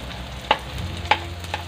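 Onions sautéing in a pan for papaitan give a low, faint sizzle, broken by a few short utensil clinks and stirring scrapes.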